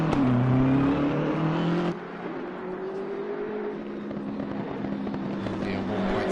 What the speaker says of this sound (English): sweet ass looking BMW M6 GT3 as we hear the exhaust notes sing its heart out here at Laguna Seca